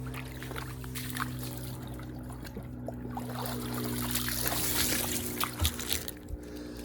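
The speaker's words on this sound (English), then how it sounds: "I'm gonna dunk these and we'll compare side by side." Water splashes and trickles as maritime assault boots are dunked, with sloshing and dribbling that grow louder toward the end over a steady background hum.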